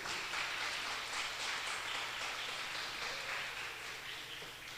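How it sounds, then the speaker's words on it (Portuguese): A church congregation at a worship service applauds, a soft, dense patter of many hands clapping steadily in a large room, sustained and somewhat distant, with no talk. "Você pode aplaudir ao Senhor?"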